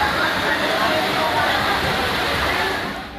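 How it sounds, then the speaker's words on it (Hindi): Floodwater after heavy rain rushing through streets and sweeping away vehicles: a loud, constant roar of churning water with no pauses, easing slightly at the end. "सब कुछ पानी में बह रहा है, इंसान हो या फिर गाड़ियां।"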